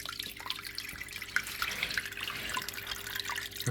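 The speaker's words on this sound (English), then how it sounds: "Okay, that's moving some water." A small Superfish aquarium filter pumps water, giving a steady trickling, splashing flow with scattered drips throughout, close and fairly quiet, with no voices.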